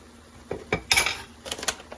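Pasta gets mixed in a pot with a utensil, several short scraping clanks of metal against the pot's sides in an uneven rhythm, close and fairly loud with no talking.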